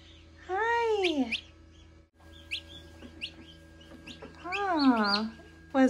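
Newly hatched chicks peep while being held in people's hands, sending out high, sweeping chirps in bursts close by, with people talking around them.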